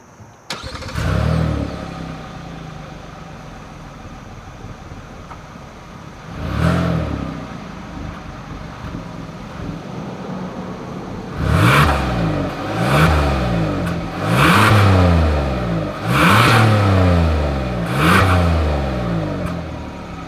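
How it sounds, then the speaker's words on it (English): A 2021 Hyundai Palisade engine cranks and catches, settles into an idle, then gives one rev and a run of four or five sharp, loud rising-and-falling revs through the exhaust, heard up close with no talking. "As always, here is that exhaust clip."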